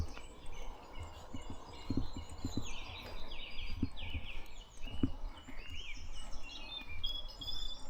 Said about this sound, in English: So song thrush, he's actually the one that lights up yellow, they're actually chirping at the minute